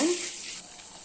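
Boiled water is drained from raw rice, pouring and hissing briefly, a soft rushing splash that fades into a low steady sizzle, with a quick voice at the start.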